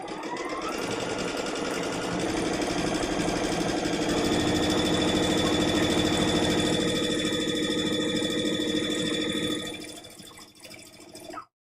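A sewing machine runs continuously while chain piecing small three-piece quilt block units, a close, fast, even mechanical whir that slows and stops near the end.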